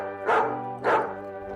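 A happy dog barks twice after an afternoon treat of Schmackos in a New Zealand house, two clear, evenly spaced woofs close by over a faint steady hum.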